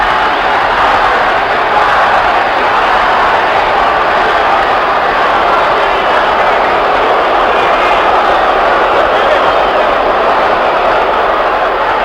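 Dense, steady roar of a large arena crowd cheering at a heavyweight boxing match between Muhammad Ali and Joe Frazier, with Ali leading the cheers from his corner; the noise holds loud and unbroken throughout.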